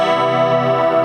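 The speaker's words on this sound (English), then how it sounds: "I'm selecting compression and modulation only, and it sounds like this" Acoustic guitar sustains steady, layered tones through compression and a chorus modulation effect on a T-Rex Soulmate acoustic pedal, producing a shimmering, even texture at a constant loud level with no talking.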